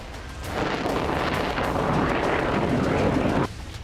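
Iranian Sejjil missile launching, a loud sustained roaring rush that swells in about half a second, holds steady for roughly three seconds, then drops abruptly.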